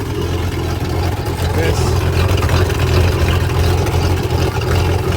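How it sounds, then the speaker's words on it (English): A MerCruiser 5.0 L sterndrive boat engine on flush muffs fed by a garden hose idles steadily with a low, rough rumble and some water splashing, running continuously at close range. "here you can see I've got the boat hooked up to muffs and a garden hose"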